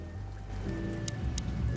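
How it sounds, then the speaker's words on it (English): Steady rain in Chicken Police, a soft wash of falling drops under sustained musical tones, with a couple of brief bright splashes. "Well, it is raining."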